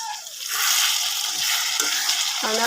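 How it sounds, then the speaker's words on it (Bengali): Meat frying in a pan for homemade haleem, a loud close sizzle with occasional stirring scrapes that runs throughout, with no speech. "এভাবে আরও 5 মিনিটের মতো মাংসটা ভালো করে কষিয়ে নেব"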